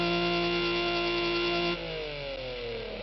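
Engine of a car in a racing video game on Xbox Series X, a steady droning rev with layered harmonics that shifts and falls in pitch partway through, playing alone at moderate level.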